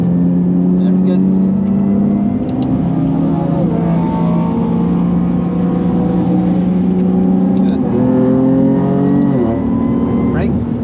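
A freshly rebuilt race car, on its first track outing after the rebuild, accelerates hard out of a corner with a loud, close engine. Its revs climb, drop briefly at a shift, then climb again while a voice talks over it.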